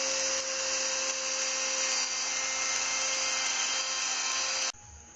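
A router cuts marble tracks into a wooden bearing for a lazy Susan, giving a loud, steady high whine that holds for several seconds before cutting off abruptly.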